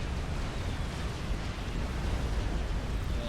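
Bombers in Forged Alliance Forever pound an army on a generated map with a dense, continuous roar of explosions, steady and heavy throughout without distinct breaks.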